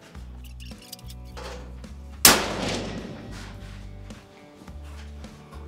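.338 Lapua Magnum rifle firing, one sharp loud crack with a ringing, decaying tail, set against a low continuous hum and faint scattered clicks.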